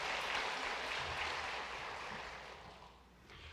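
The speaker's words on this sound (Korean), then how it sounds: "큰 박수로 환영하겠습니다" A Korean church congregation at a Sunday worship service gives a sustained round of applause to welcome newcomers. The clapping is dense and steady, then thins and fades toward the end, with no talking over it.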